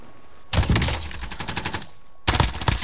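Automatic gunfire in Fortnite rattles in rapid, loud bursts: a long sustained volley and then a second burst after a brief gap, with no talking over it.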